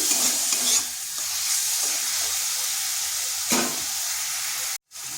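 Turmeric and garam masala being stirred in a frying pan, a steady close sizzle with scraping stir strokes, a brief cut to near silence near the end.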